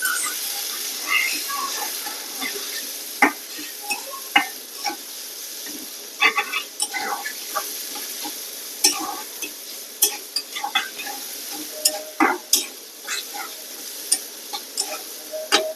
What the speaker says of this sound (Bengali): এতে পেঁয়াজ আর মরিচ দিয়ে দিলাম, চাল কুমড়া দিয়ে মাছ দিয়ে এখন রান্না করবো।